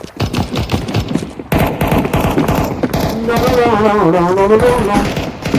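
Gunfire in Counter-Strike, rapid bursts of automatic shots in a quick rhythm, with a player talking over the action.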